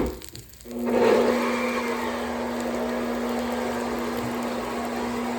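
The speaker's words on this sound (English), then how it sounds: "And You blend it up." Blender whirring fresh cilantro with water, a steady high motor whine starting after a brief pause and running continuously, close and loud with no talk.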